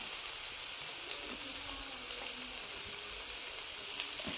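Fish sizzles and fries steadily in homemade coconut oil, a continuous close hiss with faint crackles and no voices.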